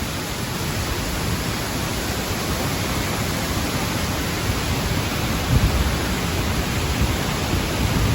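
A waterfall below a walkway, heard as a constant, broadband roar of rushing water, steady and unbroken, with no voices.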